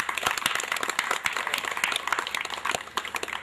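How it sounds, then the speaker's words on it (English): Audience at an entrepreneurship development workshop clapping steadily, a dense patter of many hands filling the room at moderate, even loudness without speech. "You can always clap for me."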